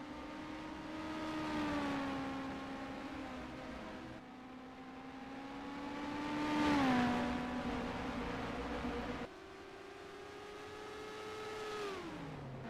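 Race cars lap the circuit at the Grand Prix of Ohio, including Alpines. Several engine passes rise and fall in pitch one after another, each swelling and then fading as the car goes by, with no voices.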